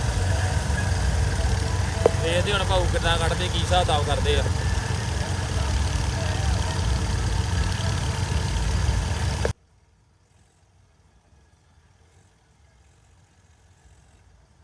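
A tractor idles with a steady low engine rumble while working in wet sand, loud and constant under men's conversation, then cuts off abruptly to near silence partway through.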